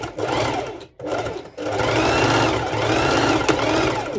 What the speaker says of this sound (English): going to do back and forth stitching, so my stitch is very secured